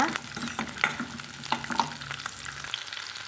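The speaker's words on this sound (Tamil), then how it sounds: "இந்த முருங்கைக்காய் வத்தலை நல்லா பொறிஞ்சு வந்துடுங்க" Dried drumstick pieces and whole shallots fry in oil with a brisk crackling sizzle, close and steady, punctuated by frequent scraping stirs of a spoon against the pan, no voices.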